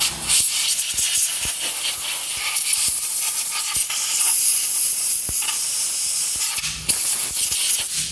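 Compressed air hissing steadily and loudly while blowing brake cleaner off the front brake parts of a 2015 Jeep Patriot, close to the source, with faint clicks and taps under the blast.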